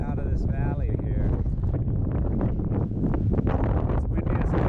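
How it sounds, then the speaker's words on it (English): Heavy, constant wind buffeting the microphone with a loud low rumble during a motorcycle ride on rough Saline Valley Road in Death Valley, a faint voice briefly audible beneath it. "It's windy as hell."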